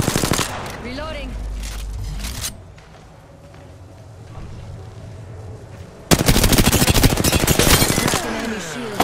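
Rapid bursts of automatic gunfire in a squad-based shooter video game, loud and close, with a quieter lull midway before a dense sustained volley, layered with game voice callouts.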